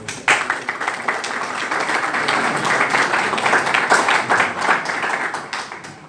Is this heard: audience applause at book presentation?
yes